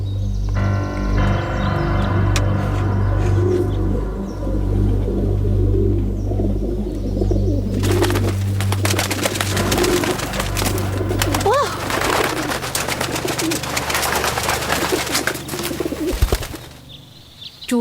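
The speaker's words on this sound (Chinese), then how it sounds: "到时间该放鸽子了。" Pigeons coo and flutter as they are released in a war film scene, soft repeated coos and wingbeats over a low droning score, ending in a brighter burst of bird calls and flapping.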